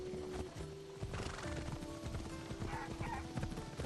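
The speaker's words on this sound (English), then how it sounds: "Got my fiery horse." A horse in the Assassin's Creed Odyssey video game gallops with a rapid, steady clip-clop of hooves and lets out neighs, the sounds dense and continuous against game background noise.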